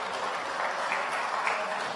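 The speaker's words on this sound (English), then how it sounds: "Another round of applause." An audience applauds at a lecture, a short steady wash of clapping at moderate distance with no clear voices over it.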